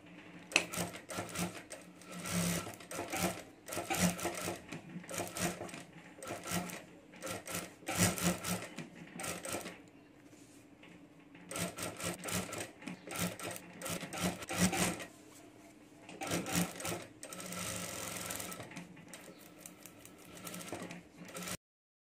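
A sewing machine stitches a mini backpack keychain in several bursts of fast, close rattling, separated by short quiet pauses.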